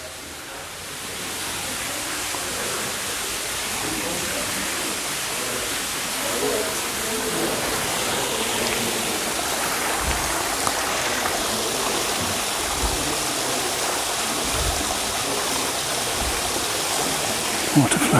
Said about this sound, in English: Water flowing down, isn't that great?